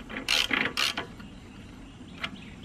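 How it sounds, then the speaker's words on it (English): A spark plug is screwed back into a lawn mower engine, giving a few quick ratcheting clicks close up near the start and one faint click later, against a quiet background. "I'm going to screw the spark plug back in."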